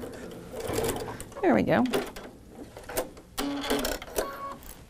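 A sewing machine stitching a half-inch quilt seam, with short whirring runs and a rising motor whine, close and clear, while someone talks briefly over it.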